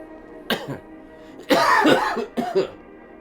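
Several harsh coughs close to the mic: a short one, then a longer hacking burst, and a final pair of coughs.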